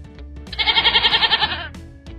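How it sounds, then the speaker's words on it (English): A goat gives one loud, quavering bleat lasting about a second, trembling in rapid pulses, set between brief quiet moments. "It's a goat!"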